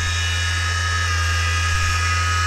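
Car window motor driven by a Bedini circuit, spinning freely with no load at about 5,000 RPM: a steady, loud, high-pitched whine that holds constant throughout.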